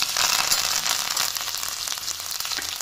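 Chillies and curry leaves crackle and sizzle in hot oil with mustard seeds, a steady, dense frying hiss with small pops, close and fairly loud throughout.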